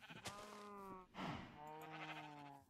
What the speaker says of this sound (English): sheep are like crowding around here all of a sudden